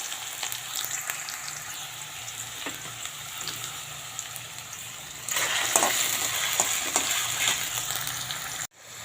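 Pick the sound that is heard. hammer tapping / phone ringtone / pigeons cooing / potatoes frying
potatoes frying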